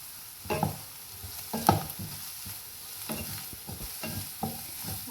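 Green peas sauté in oil with softened onion for baingan bharta, a soft steady sizzle punctuated by several sharp spatula stirs and scrapes against the pan, close up with no talking.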